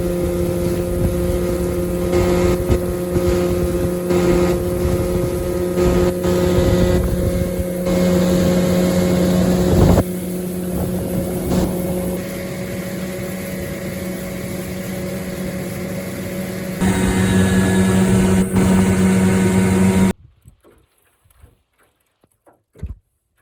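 Outboard motor on a jon boat running steadily while heading out to fish for musky, a loud close drone with wind buffeting, shifting in pitch, then cutting off abruptly into near quiet.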